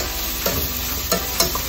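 Green onions and other vegetables stir-fry in a hot pan with a loud, steady sizzle, broken by three quick scraping stirs of the spatula. No one speaks.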